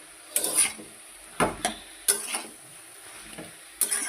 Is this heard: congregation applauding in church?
no